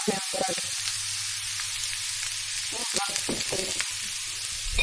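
Onion and carrot fry steadily in a pan for a Hungarian-style lecho base, giving a continuous close sizzle with occasional stirring clatter and no talk.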